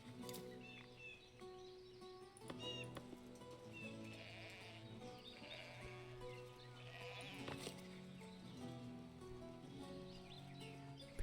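Sheep bleat repeatedly at a sheep farm in the city-building game Foundation, several calls rising over a steady bed of game music and ambience, moderately loud and with no talking.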